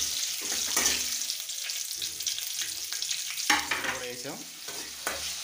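Tomatoes and green chillies frying in a pan for upma, a continuous sizzle broken by repeated stirring scrapes, with a brief spoken phrase over it.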